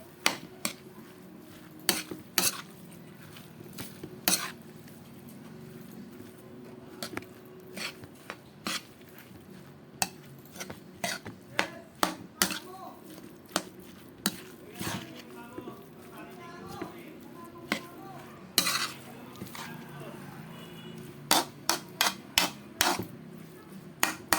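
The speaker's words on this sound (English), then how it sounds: "mix the ground pork with our grinded ingredients" Ground pork mixed in a bowl with ground ingredients for lumpia filling, with sharp utensil clinks and knocks against the bowl at an irregular pace, faint and fairly close, while someone talks.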